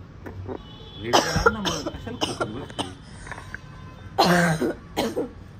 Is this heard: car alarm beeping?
no